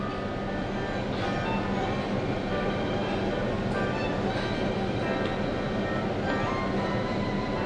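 JR Shikoku KiHa 185 series diesel railcar standing at a platform, its steady engine rumble and rail noise continuous throughout, with faint clinks and a brief squeal mixed in.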